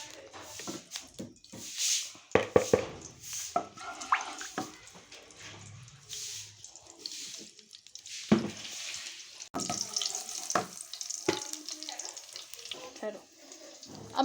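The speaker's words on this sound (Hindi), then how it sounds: "सबसे पहले हम कलेजी को करेंगे फ्राई। पहले डालेंगे हम अपना घी, इसको अच्छी तरह से गर्म होने देंगे।" Chicken liver frying in hot ghee in a home kitchen, with a faint sizzle broken by sharp clatters and scraping of utensils, fairly quiet and close.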